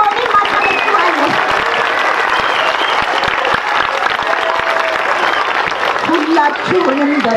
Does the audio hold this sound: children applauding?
yes